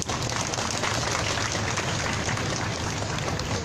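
Outdoor crowd at the 1399th Wednesday Demonstration over Japanese military sexual slavery applauds a speaker, giving a dense, even wash of clapping that holds steady without any clear break.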